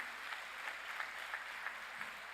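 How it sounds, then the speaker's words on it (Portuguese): A church congregation applauds, producing a brief, steady patter of many hands clapping, fairly faint and distant, with no one speaking. "dê um aplauso a Ele"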